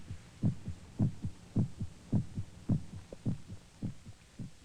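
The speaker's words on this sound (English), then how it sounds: "The sound of our heart pounding against our ribs." A human heart pounding in a steady, slow rhythm, each soft low thump doubled, repeating evenly and quietly on its own.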